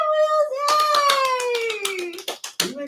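Hands clap in a quick, steady run of about a dozen sharp claps beneath a sustained, drawn-out voice, ending with a few louder, irregular claps.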